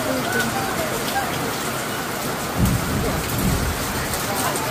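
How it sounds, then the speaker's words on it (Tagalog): Heavy rain pours steadily with a dense hiss, while low rumbles of thunder roll in near the middle and again shortly after; a voice speaks faintly underneath. "Kusog ang ulan dahil it's raining."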